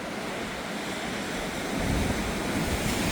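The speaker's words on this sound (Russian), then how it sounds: "Ух, и прибой." Surf breaks on a rocky lakeshore under steady wind, a continuous broadband wash that swells louder partway through; no one talks.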